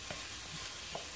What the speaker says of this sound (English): I just want that onion to sweat a little bit